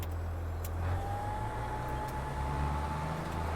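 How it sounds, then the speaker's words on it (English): A farm vehicle's engine idles steadily in Farming Simulator 22 on the Korpi map in Finland, a continuous low rumble with a faint mechanical whine on top, close and alone with no voices. "Helps if I start the engine now"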